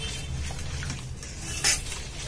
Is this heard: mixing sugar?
yes